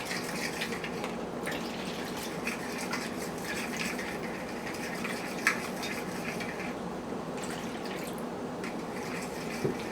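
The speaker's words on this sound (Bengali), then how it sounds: "এবার আমি অল্প অল্প করে দুধ মেশাবো আর দইয়ের সাথে সুন্দর করে মিক্স করে ফেলবো।" Milk is gradually stirred into yogurt for oven-baked sweet curd, giving steady clinking and scraping of a utensil against a bowl with faint liquid sloshing, close and continuous with no talk.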